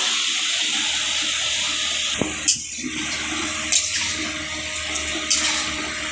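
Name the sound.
water poured into pan of marinated chicken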